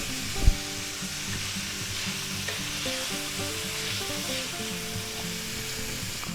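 Onions sauté in a pan with minced garlic for a sausage sub, sizzling steadily at an even, moderate level with a single stir or knock near the start.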